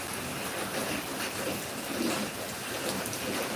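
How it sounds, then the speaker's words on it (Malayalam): Heavy rain falls in a continuous, moderately loud wash of water sound, steady throughout with gentle swells and no talking. "ഇവിടെ കണ്ട നല്ല മഴയാ"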